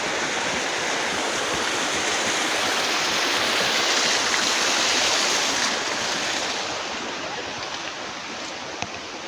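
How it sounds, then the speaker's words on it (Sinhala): Swollen village stream after rain, a steady broadband rush of flowing water that stays loud and continuous throughout, easing slightly toward the end. "වැස්ස නිසා වතුරත් පොඩ්ඩක් වැඩි වෙලා තියෙන්නේ කඳුරේ"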